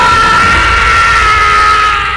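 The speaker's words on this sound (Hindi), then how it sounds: "और झाड़ियों में उस आदमी की चीख गूंज गई" A man's scream sound effect in a Hindi horror story, one loud, sustained, drawn-out cry lasting about two seconds, heard on its own.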